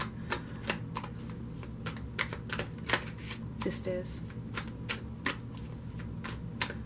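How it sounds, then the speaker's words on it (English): Tarot cards are shuffled steadily by hand, a rapid run of crisp riffles and flicks close up, with a voice speaking briefly over them. "My eyes are closed while I'm shuffling these cards"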